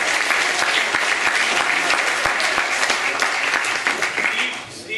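An audience at an awards dinner breaks into loud, sustained clapping that carries on for several seconds before thinning out at the end, with some voices underneath.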